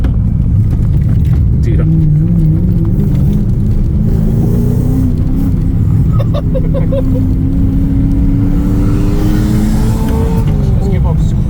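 A Lexus LS430 V8 on a track day roars loud and steady, its engine droning continuously up close while crackling pops break through and a voice speaks briefly over it.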